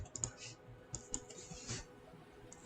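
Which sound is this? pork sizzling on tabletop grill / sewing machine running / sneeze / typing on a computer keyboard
typing on a computer keyboard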